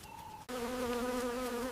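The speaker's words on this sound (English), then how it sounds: "Kira braves the fury of the swarm, her thick hide her ultimate defense." Dense insect buzzing from a swarm of bees at a hive, raided by a honey badger; a steady, loud drone with layered tones starts abruptly after a brief quieter hum and continues without pause.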